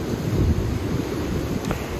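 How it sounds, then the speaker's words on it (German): High waves surge on a rough, windy sea at Cala Ratjada, Mallorca, a continuous loud roar of surf mixed with steady wind rumble and microphone buffeting. "Diese hohen Wellen."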